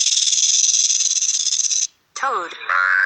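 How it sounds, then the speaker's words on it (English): A rattlesnake shakes its tail in a loud, continuous dry buzzing hiss, which cuts off abruptly and is followed by a short burst of other sound. "Rattlesnake."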